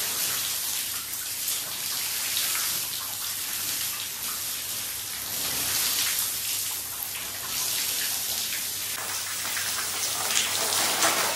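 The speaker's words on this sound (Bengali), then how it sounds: "ঘুম থেকে উঠে হচ্ছে গিয়ে নতুন ঘরে জল দিতে চলে এসেছি।" Water is sprayed onto freshly plastered walls in a newly built bathroom. It makes a continuous hissing, rain-like patter of water hitting the surface that swells and eases slightly and runs throughout, with no speech.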